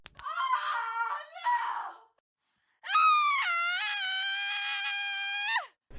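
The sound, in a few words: woman screaming in horror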